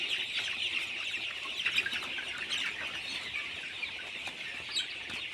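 Hens clucking steadily with scattered chirps, a busy flock close by in a continuous poultry farm din.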